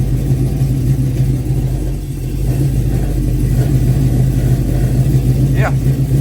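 The LS-swapped 1969 Camaro's engine runs steadily in gear with its wheels spinning, a loud, constant low rumble from close by that holds through the whole stretch.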